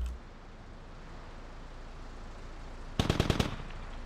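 A short, loud burst of rapid automatic gunfire in the video game Squad, about five sharp shots in quick succession after a stretch of quiet background hiss.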